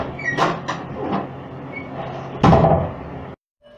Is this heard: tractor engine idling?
no